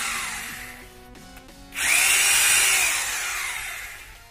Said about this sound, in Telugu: ఈ డ్రిల్ కూడా చాలా చక్కగా పడడం జరుగుతుంది ఫ్రెండ్స్.